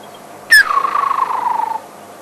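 A person whistles an imitation of a woodland kingfisher's call: a sharp high note that drops into a long, even, descending trill lasting over a second, heard alone and fairly close.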